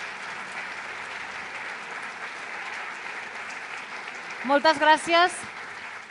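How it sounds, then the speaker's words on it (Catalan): Steady applause from the audience at a Catalan inclusive sports awards gala for a singer, running throughout; near the end a speaker's voice rises briefly over the clapping. "un fort aplaudiment per ella"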